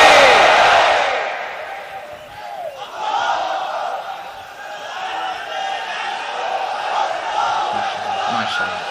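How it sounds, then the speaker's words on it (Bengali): A large crowd at a Bangla Islamic sermon loudly chants takbir, Allahu Akbar, a massed shout that swells at the start and then fades into sustained crowd voices. "তাকবীর পড়ুন, লিল্লাহি তাকবীর।"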